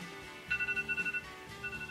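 A mobile phone ringtone sounds in a quick run of about seven evenly spaced electronic pulses, fairly faint and close, with a short further burst after a pause.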